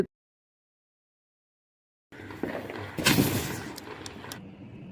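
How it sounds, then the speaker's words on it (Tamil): After two seconds of silence, a bike-shaped Diwali firecracker fizzes and then bursts with a few sharp cracks and crackles nearby, trailing off in hissing. "அடுத்த வெடி நான் வைக்கிறேன்ப்பா எனக்கு பிடிச்ச பைக் வெடி"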